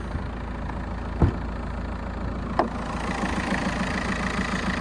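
A 277,000-mile VW Golf MK5 TDI diesel engine idles steadily and close up, a constant low rumble with a couple of faint clicks along the way.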